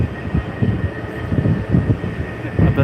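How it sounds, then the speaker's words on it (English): Brand new Jetstar Airbus A320neo airliner, a low, steady engine rumble with wind buffeting the microphone and a faint tonal whine, heard from nearby while someone talks. "Here, right in front of us, we have a brand new Jetstar A320 Neo."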